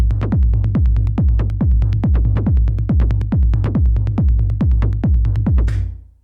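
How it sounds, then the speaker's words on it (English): A techno kick drum and synth bass, grouped together and run through Ableton's Color Limiter, pound out a loud, steady, dense four-on-the-floor pulse with heavy low end that cuts off and fades at the end. "I grouped my kick drum and my bass in this little subgroup here, slapped a color limiter on top"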